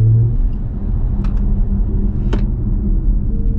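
A BMW i4 electric car gives off its driving sound composed by Hans Zimmer, a loud, low, continuous rumble with a short tonal drone at the start and a few faint clicks over it, without talking.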